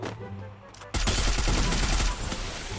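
Dense gunfire bursts from the mobile battle royale game Free Fire, a loud fusillade of rapid shots that starts abruptly about a third of the way in and continues, with a person's voice faintly under it.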